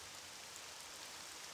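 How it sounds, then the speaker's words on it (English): Steady broadband hiss of heavy rain falling in a Pokemon video game, a dense continuous downpour heard alone without any voices. "This rain is loud as shit."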